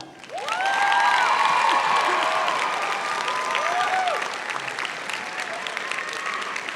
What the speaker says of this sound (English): Please take a moment to honor them with your applause.